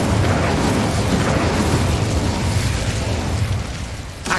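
Fire spell Incendio cast in Hogwarts Legacy, a dense roaring blast of flame that holds steady and loud for several seconds before easing off with a brief crackle at the end.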